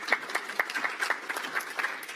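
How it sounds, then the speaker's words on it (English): An audience at the Democratic National Committee summer meeting in Minneapolis gives a short round of applause, steady scattered clapping from a crowd without any talking. "Yes, she deserves some applause."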